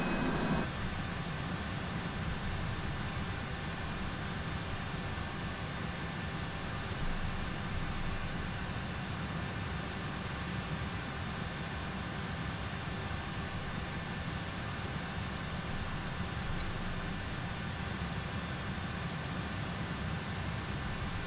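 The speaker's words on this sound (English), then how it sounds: "I like the sound of this jet." A jet airliner's engine in Microsoft Flight Simulator 2020 makes a steady, broad whooshing roar with a faint high whine, constant and unbroken throughout, with no talk over it.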